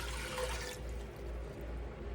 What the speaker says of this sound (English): I'm fixing to put me a good amount of water in here.